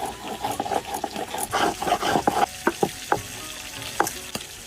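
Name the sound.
frying the remaining fish in oil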